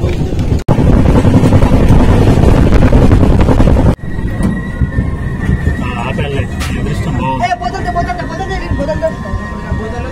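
A Falaknuma Express train slowing down at a station, heard as a loud, steady rumble of carriages that drops in level partway through and gives way to rattling and faint squeals.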